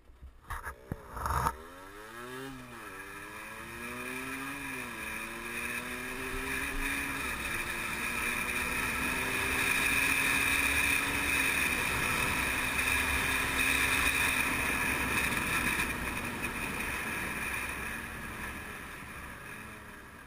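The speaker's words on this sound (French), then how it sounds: "la GoPro elle prend vachement l'air et du coup on entend presque plus la moto des fois" A Derbi 50cc motorbike ridden with a helmet-mounted GoPro: a small engine revs up and shifts through rising and falling pitch sweeps, then settles into a steady drone, heavily buried under loud, continuous wind roar for the whole ride.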